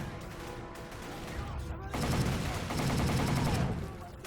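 Gunfire in the Xbox 360 shooter Battle for the Pacific, Wake Island mission: a dense, steady stream of shots and bursts that grows louder and heavier halfway through and stays busy to the end.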